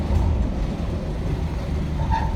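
VDL hook lift hoisting a container onto a lorry, a steady loud hydraulic and engine rumble running continuously without break, close by and with no voices.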